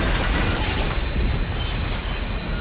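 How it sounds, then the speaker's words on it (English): A subway train in the Dead Space 2 video game rumbles steadily as it slows, with a constant loud low roar and faint high metallic squeal throughout. "Oh, train stopping, I guess."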